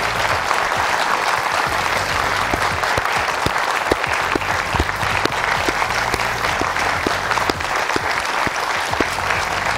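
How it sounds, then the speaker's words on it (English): Steady, dense applause from a large audience honouring the Prime Minister, sustained and even throughout with scattered sharper claps standing out, no talking over it. "let's give a big applause to our Prime Minister"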